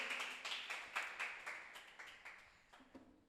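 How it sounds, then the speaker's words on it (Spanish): Congregation clapping at a church service, a short burst of scattered handclaps fading steadily over a few seconds, moderately close and alone without talk. "Dale un fuerte aplauso a Dios."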